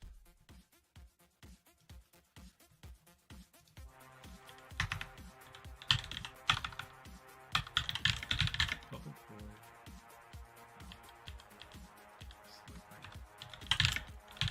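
Keys clack on a computer keyboard in quick irregular bursts, close and fairly quiet, growing busier and denser partway through with occasional louder taps.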